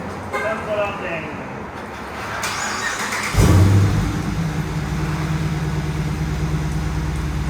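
Rear-wheel Dodge Charger R/T V8 with its mufflers removed barks loudly to life partway through, then settles into a deep, steady, rumbling idle close by; voices talk in the quieter stretch before it starts.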